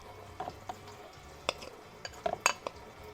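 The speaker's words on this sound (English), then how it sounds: "So I'm going to have to spoon this in probably." Sticky peanut butter and honey dough for homemade dog biscuits being spooned into a bowl, with a scatter of light scrapes and clinks of spoon against the bowl, several sharper taps near the end, close and fairly quiet.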